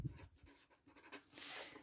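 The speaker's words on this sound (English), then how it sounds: "I'm going to start off with is on my spiral here. Okay, I'm going to write" Pen scratching across the paper of a spiral notebook, a quiet run of short strokes that thickens into a brisk scribble near the end.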